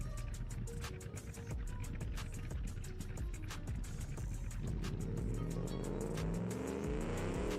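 A car driving in the BeamNG video game on a career-mode run, its engine droning steadily and loudly throughout with road and tyre noise, the pitch shifting partway through as it slides loose.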